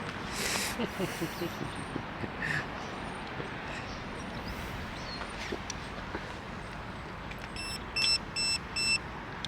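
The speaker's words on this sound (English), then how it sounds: "It's all the beeping going on" Beside a fishing lake, a few short electronic beeps sound in quick succession near the end, over steady outdoor ambience and low background noise.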